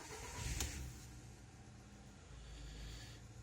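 A car engine cranks and catches with a short whirring burst near the start, then settles into a faint low idle rumble, quiet and without voices.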